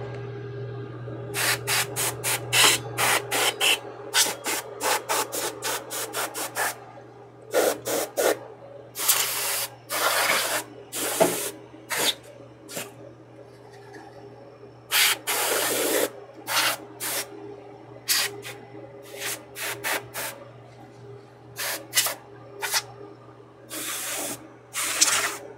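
Compressed air blasts dust out of a Chroma AC/DC power source during a teardown, coming as loud, close bursts of hiss, some short and rapid, others longer, separated by pauses over a low electrical hum.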